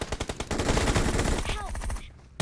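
Rapid automatic gunfire in the PUBG Mobile shooter, with a quick rhythmic burst of close, loud shots at the start that blurs into a dense volley and then cuts off abruptly.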